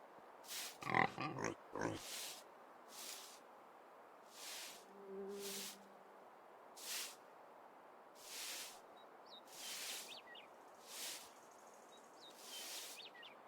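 Pigs in the video game Medieval Dynasty grunt and oink in a steady series of separate snorts, one roughly every second, faint and close, after a brief louder rustle at the start.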